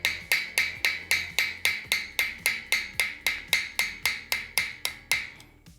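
A hammer strikes pewter sheet being fold-formed into a coat hook, about eighteen crisp, evenly spaced blows in a steady rhythm, each ringing briefly before the next, with no talk.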